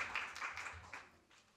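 Scattered clapping from an audience at a poetry recitation state finals, a brief spell of applause that quickly fades out.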